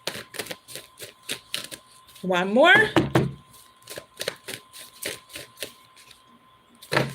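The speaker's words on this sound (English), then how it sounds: "2 more shuffles." Tarot cards are shuffled by hand: quick light taps and a brief riffling burst sound close by, while a person speaks softly.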